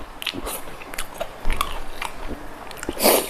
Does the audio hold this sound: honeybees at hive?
no